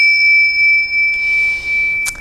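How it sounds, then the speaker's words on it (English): A teacher's bell is rung to open a yoga practice session, giving a clear, sustained metallic ring that hangs steadily through the whole moment with no talking. "I'll ring the teacher's bell here so we can start"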